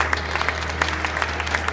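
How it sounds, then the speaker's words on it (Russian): Audience applause after a sports performance program at a karate event, a steady wash of clapping from a crowd with scattered louder claps, moderately loud and continuous over a low hum. "Овации зрителей после завершения программы Татьяны Александровны не прекращались долго."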